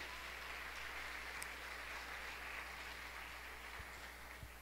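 A church congregation applauding, a steady, even wash of many hands clapping at a moderate distance, faint and unbroken, with no voices over it.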